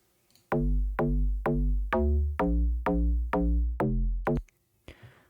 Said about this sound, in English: So a bit of a donker bass line.